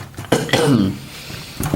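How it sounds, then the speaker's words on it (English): A man coughs a few times during a close, indoor LEGO set review: two quick, sharp bursts followed by a rougher, throaty cough, then another short one near the end, all loud and close to the microphone. "I'm kind of having some sort of cough or something like that."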